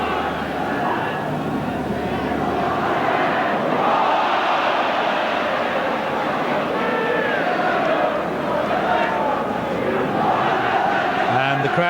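Rugby league stadium crowd at Leeds v St Helens, a dense continuous roar of thousands of spectators with shouting and chanting swelling throughout, loud and close.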